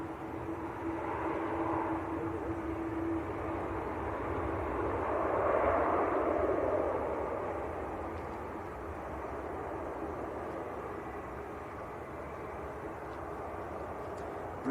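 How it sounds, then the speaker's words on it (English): EasyJet airliner from Prague at Manchester Airport, a distant broadband jet roar that swells and fades over several seconds, faint and steady with no talk. "The EasyJet from Prague."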